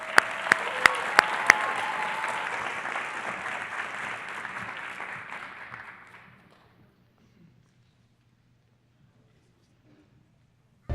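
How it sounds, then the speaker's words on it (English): Applause from an awards-ceremony audience for the winners, a few sharp claps up front, then steady clapping that fades out after about six seconds into near silence. "Please help me give a round of applause to all tonight's Pathway winners."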